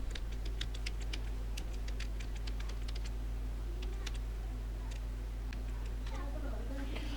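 A command is typed on a computer keyboard in quick bursts of light, close key clicks over a steady low hum.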